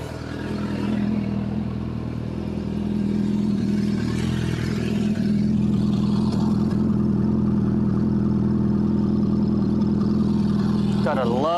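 A 2003 Suzuki Bandit 600 motorcycle, just taken out of winter storage, idles close by with a steady low engine hum that rises slightly and holds evenly, with light mechanical clatter throughout.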